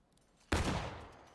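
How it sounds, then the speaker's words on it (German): A sudden, loud volley of musket fire in the Civil War shooter game War of Rights, one sharp burst that rolls and decays over about a second. "Ja, die Schüsse kommen meistens."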